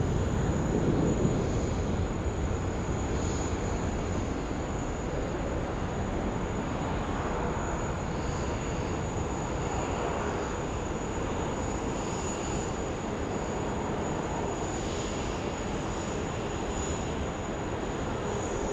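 A Qantas airliner rolls for takeoff on runway 16 right at Sydney Airport, its engines making a steady, broad roar with a faint high whine, heard from a distance and holding constant without voices.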